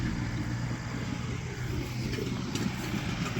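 A tractor's engine drones at a distance as it disks food plots, a low, steady rumble held evenly throughout with no one talking.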